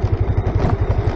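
A motorcycle engine runs steadily and close by on a steep dirt road leading to a riverside campsite in Bulacan, giving a throbbing low rumble with a rapid pulsing beat.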